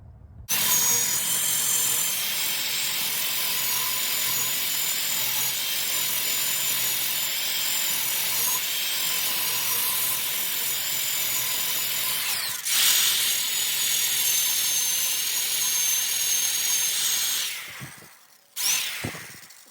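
A small mop sander spins against a turned Araucaria (Brazilian pine) wood bowl, a steady high-pitched whirring rub that runs nearly continuously, briefly shifting around the middle before cutting off near the end.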